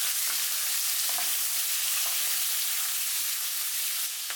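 Squid and chopped garlic stir-fry in a hot pan, making a loud, steady sizzle throughout with occasional soft scrapes and taps from stirring.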